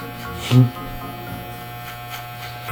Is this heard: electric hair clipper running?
yes